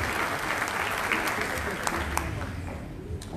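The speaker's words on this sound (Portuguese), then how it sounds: "Vamos aplaudir os vencedores do prêmio Premier Rosas Prata 2019." An audience at an award ceremony during a Brazilian traffic psychology congress applauds the prize winners, a steady, fairly soft patter of many hands clapping with a few sharper claps standing out.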